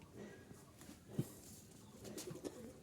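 Soft, low coos from Jalali pigeons repeat a few times, faint and somewhat distant, against a quiet background.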